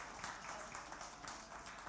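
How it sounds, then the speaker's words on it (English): Audience at a healthcare panel of a digital conference in the Czech Republic claps steadily, a soft, distant wash of applause lasting a couple of seconds. "everyone can clap as well"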